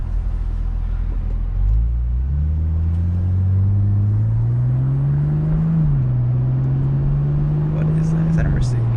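A car passes close by with a loud engine rumble that rises in pitch as it accelerates, then holds steady before fading toward the end.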